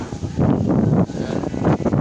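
Strong wind strikes the microphone in dense, roaring gusts that swell and dip, with a brief lull near the middle.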